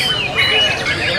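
White-rumped shama (murai batu) at a bird-singing contest in Vietnam giving a brief burst of clear, high chirping notes over a busy background.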